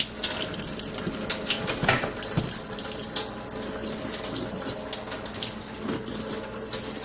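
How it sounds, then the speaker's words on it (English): Water streams steadily from the top and bottom spouts of an IONIA U Blue alkaline water ionizer, a close, continuous splashing rush with small fluctuations, and no voices. "Now the alkaline water is coming out of the top spout, while at the same time the acidic water is coming out of the bottom spout."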